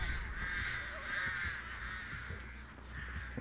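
Crows caw repeatedly in the survival horror game Dead by Daylight, a string of harsh, moderately loud calls over quiet background ambience with no talking.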